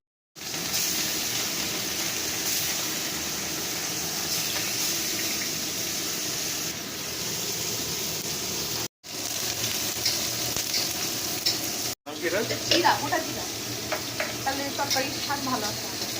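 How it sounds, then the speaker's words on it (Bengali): Rohu fish frying in hot oil, a loud, continuous close sizzle that cuts out briefly twice, then returns with added crackling and spattering pops toward the end. "যদি গরম তেলে গরম হয়ে গেছে, এখন মাছ ঢেলে দেওয়া হবে"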